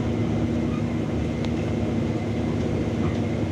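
A steady low rumble of the Batarakresna economy passenger train rolling along at about 20 km/h, continuous and fairly loud, with no voices.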